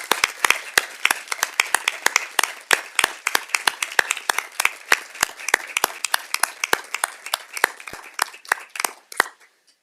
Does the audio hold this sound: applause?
yes